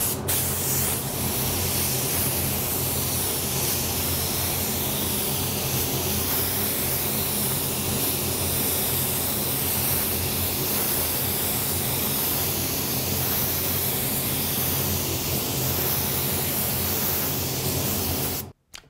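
Createx AutoBorne sealer goes on as a third coat from a spray gun: a loud, continuous close-up hiss of spraying that runs almost unbroken before cutting off at the end.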